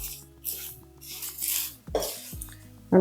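Chana dal and bitter gourd pieces dry-roast in a pan over a low flame, with scraping and stirring against the metal and scattered clinks, fairly close and steady.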